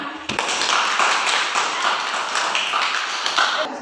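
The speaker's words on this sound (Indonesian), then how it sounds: "Tepuk tangan." Classroom applause at an elementary Islamic school's sixth-grade practical exam: a dense, steady patter of many hands clapping, fairly close and sustained throughout with no voices over it.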